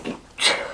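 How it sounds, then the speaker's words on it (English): A single sneeze, close and brief, with a short intake of breath before a sharp burst. "Made you sneeze."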